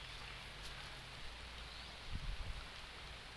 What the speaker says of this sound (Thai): ฝนก็ตกแล้วนะครับ